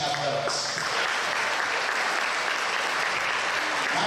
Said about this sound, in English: Please join me in applause for our game officials